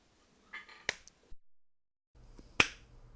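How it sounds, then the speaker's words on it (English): Two sharp single hand claps carried over a Discord voice call, the first softer, the second a loud crisp crack about two seconds later, with faint low background between them. "So, three, two, one, clap."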